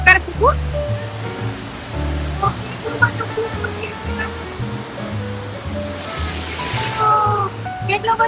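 A large Swiss waterfall, carrying about 600,000 litres of water per second, roars as a steady, broad rushing wash, while people talk over it throughout.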